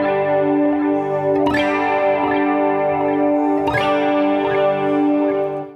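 Electric guitar through a Line 6 Helix 70s chorus switched to vibrato mode, sustained strummed chords wavering steadily in pitch, with two sharp new strums about two seconds apart, loud and close with no voice.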